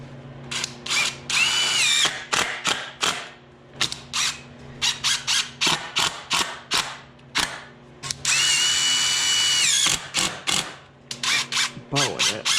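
A power drill drives screws into a wooden chicken coop door in short repeated bursts, each whirring rise and stop close and loud, with brief pauses between screws.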